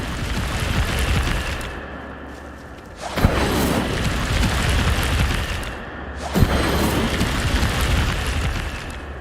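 Incendio fire spell cast in Hogwarts Legacy, heard as two sudden whooshing blasts several seconds apart, each followed by a roaring fiery rush over steady game ambience.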